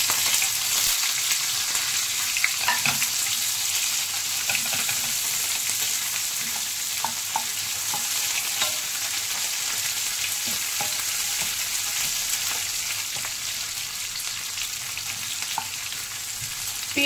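Chopped onion and garlic fry steadily in a pan for a potato curry, a dense, even sizzle with occasional soft spatula taps throughout.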